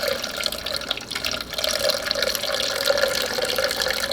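Warm broth and potatoes from a cheesy potato and leek soup pour steadily into a blender, a continuous close liquid splashing and gurgling with no talk.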